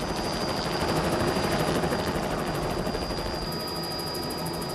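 A South African military helicopter hovers close by, its rotors making a loud, steady, rapidly pulsing thump over a constant engine roar, with no voices.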